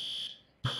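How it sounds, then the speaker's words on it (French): A fire alarm sounds with a loud, steady high-pitched electronic tone that cuts out briefly and then resumes abruptly. "Il tape l'alarme incendie."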